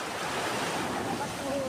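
Sea waves at Khorfakkan beach in Sharjah, a steady broadband wash of surf with wind rumble close to the microphone.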